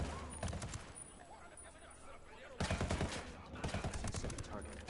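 Rapid bursts of video game gunfire from Ghost Recon in Ghost Mode, layered volleys crackling over a continuous background with a louder flurry in the second half, while players talk over the shots.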